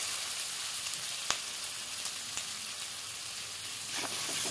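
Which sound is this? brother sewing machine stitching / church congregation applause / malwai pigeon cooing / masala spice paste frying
masala spice paste frying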